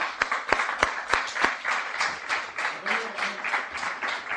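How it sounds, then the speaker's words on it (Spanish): Applause from a lecture audience at a death metal talk, with sharp nearby claps standing out early, then settling into a steady mid-level patter of many hands with faint voices underneath. "yo quería pedir un aplauso para la universidad, para Susana, para Jaén Metal"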